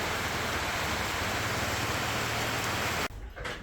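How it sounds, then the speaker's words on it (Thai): Heavy rain pours down near a resort in the hills, a dense, steady hiss close by that cuts off abruptly after about three seconds, leaving a softer patter. "ฝนลงเป๊ะ"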